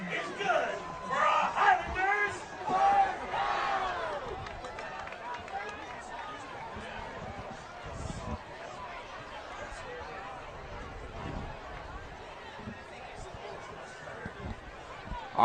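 High school football crowd at Rochester Adams vs Rochester murmurs and cheers after a big run, an excited swell early that settles into a steady distant buzz beneath a commentator's talk.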